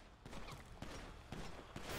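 Rapid bursts of automatic assault rifle fire in the game FiveM, several sharp volleys in quick succession over a dense, noisy background.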